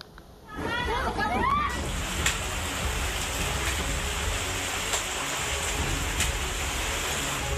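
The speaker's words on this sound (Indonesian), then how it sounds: "panik saat hujan deras bersama angin kencang melanda" Heavy rain lashes down with strong wind in a tornado-hit village in Purwakarta, West Java, a dense, roaring, steady wash that starts abruptly and continues unbroken beneath voices.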